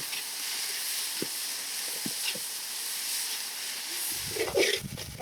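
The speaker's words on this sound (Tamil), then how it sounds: "உப்பு போட்டா வெங்காயம் நல்லா வதங்கிடும்" Onions with salt sizzling as they sauté on a wood-fire stove during village cooking, a steady close hiss broken by a few small crackles and a brief stir near the end.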